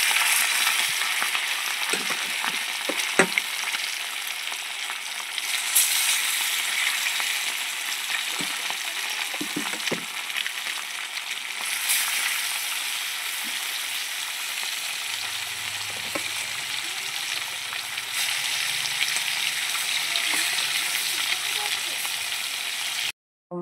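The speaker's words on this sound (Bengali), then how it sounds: "মাছ ভাজা আমার হয়ে গেল" Chela fish fry in hot oil in a wok, with a loud, continuous close-up sizzle and spatter that holds steady throughout, punctuated by occasional clinks and stirring scrapes.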